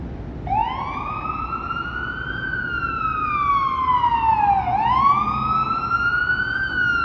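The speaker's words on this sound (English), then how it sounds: "Oh, it's another fire truck. I thought it was an ambulance." Fire truck siren wailing through downtown Toronto, a loud, rising and falling electronic wail that sweeps up and down in long slow cycles over street traffic rumble, with no talk.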